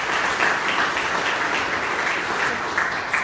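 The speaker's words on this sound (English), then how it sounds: "Another round of applause for yourself." Sustained applause from an audience at a Rising Leaders reception in downtown Topeka, steady, dense clapping filling the room throughout with no voices above it.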